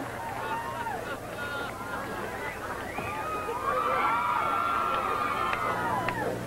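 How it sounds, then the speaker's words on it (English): An excited crowd cheers and roars with a steady wash of babble at a Battle of the Network Stars sporting event, the noise swelling slightly toward the end. "Listen to the excitement of that crowd."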